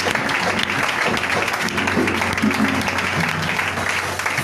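A church congregation claps in sustained applause to acclaim Jesus, a dense steady roar of many hands filling the room from start to finish.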